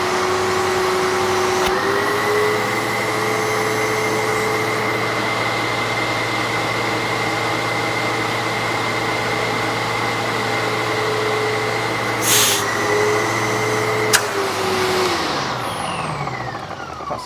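A Sebo X1 850-watt upright vacuum cleaner runs steadily at close range with a constant motor whine, a brief pitch shift near the start and a couple of short clicks before it winds down at the end.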